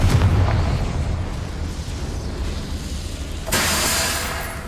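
A Confringo fire spell in Hogwarts Legacy bursts with a loud, close boom that rolls into a sustained roar, and a second, brighter blast erupts near the end.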